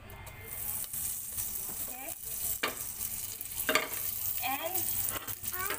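Curry leaves and spices frying in hot oil for Indian upma, a steady broadband sizzle with stirring clatter and a few sharp crackles and pops, with a voice speaking intermittently over it.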